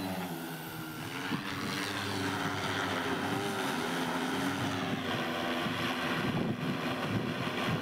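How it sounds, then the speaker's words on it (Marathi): An agricultural spraying drone flies over a farm field, its steady propeller whine and hum loud and continuous throughout, with wind noise mixed in. "बघू शकता आता उडतोय ड्रोन"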